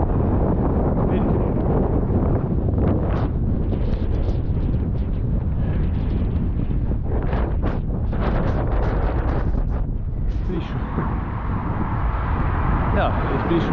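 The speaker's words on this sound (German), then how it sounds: "Wind." Strong wind buffets the microphone in a constant low roar during a bicycle ride beside the Kiel Canal, with gusty bursts rising and falling and an engine-like rumble beneath.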